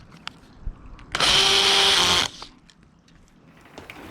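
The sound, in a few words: power drill driving screws into greenhouse frame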